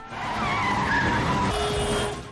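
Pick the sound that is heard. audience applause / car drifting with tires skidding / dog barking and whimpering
car drifting with tires skidding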